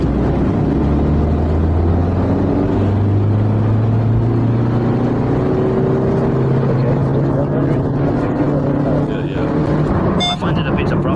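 A 140-horsepower camper van engine drones loudly from inside the cab on a test drive, its pitch rising in uneven surges that ease off and then climb again, while people talk over it.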